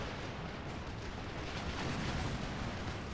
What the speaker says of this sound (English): There goes another bomb.